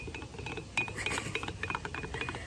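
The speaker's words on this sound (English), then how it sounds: "Now you're just gonna stir it up." A spoon stirs a strawberry DNA extraction mixture with soapy liquid, making a steady run of small clinks and scraping taps against the container, close and quiet over a faint hiss.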